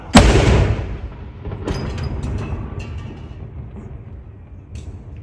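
A Royal Artillery gun salute fires at Edinburgh Castle for the King's birthday; one loud, deep boom opens and then rolls away in a long echoing rumble across the surroundings.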